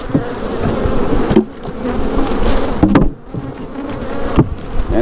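Dense swarm of honey bees from a package being shaken out, a loud close continuous buzzing with a few dull knocks and thumps as the box is jarred.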